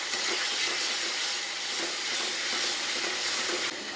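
Ground spices with homemade chilli powder, turmeric and coriander powder sautéing in hot oil in a pan, a steady loud hiss and sizzle running unbroken and close throughout, with no voices.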